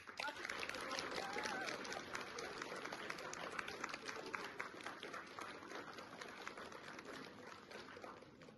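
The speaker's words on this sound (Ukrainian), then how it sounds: "це бурхливі оплески" Audience applause in a school lyceum theatre after a student Shakespeare performance, a dense steady wash of clapping filling the room with some crowd noise, continuing evenly throughout.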